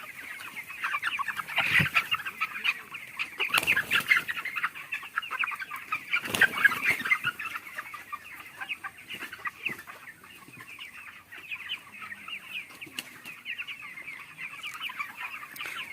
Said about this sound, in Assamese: যিখিনি মুৰ্গী আছে অলপ অলপকৈ কাহি আছে